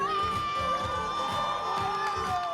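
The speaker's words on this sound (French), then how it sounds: "Dans une salle en furie, sous les cris des fans déchaînés" A packed hall of fans screams and cheers at the Mister France pageant in Paris, a dense, continuous roar of voices with tonal music running underneath, loud and unbroken throughout.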